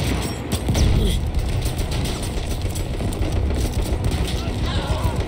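Battlefield 1 gunfire, dense and continuous rattling shots with engine-like rumble throughout, loud and close, with someone talking over it.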